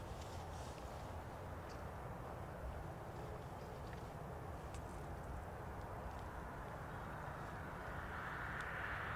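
Aer Lingus airliner arriving from Malaga at Dublin Airport, a steady broad jet roar that holds loud throughout with a faint rising whine toward the end.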